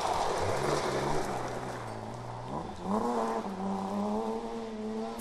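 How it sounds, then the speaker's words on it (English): A brand new BMW 325 rally car on a forest stage in the Malcolm Wilson Rally engine note rising and falling as it revs through gears, changing pitch sharply as it passes, loud and close. "John O'Gorman and John Rutter make a welcome return in their brand new BMW 325."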